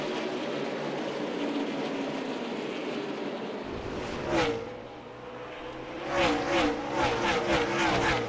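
NASCAR Cup Series race cars at Martinsville Speedway, a steady roar of engines from the pack, then several distinct revving surges as cars accelerate off a turn, moderately loud with no talk.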